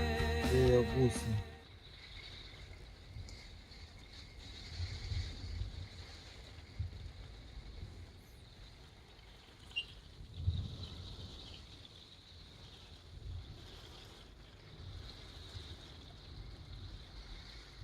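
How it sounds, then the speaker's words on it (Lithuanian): Wind gusts buffeting on an island during a hurricane at night, a low rushing roar that swells and fades in uneven surges, with a brief louder burst at the very start. "Vėjo gūsiai."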